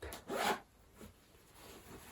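A zip being done up on a vintage leather skirt that also fastens with a popper: one quick, close zipping rasp followed by fainter rubbing and handling of the leather.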